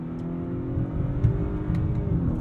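Heard from inside the cabin, a 2022 Honda Accord Sport with its 2.0-liter turbo engine drones steadily under acceleration, its pitch climbing and then dropping as the automatic transmission shifts up partway through.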